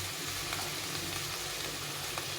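Hot water hits frying masala in a pan with a steady, even sizzle and bubbling hiss that holds throughout without any pause.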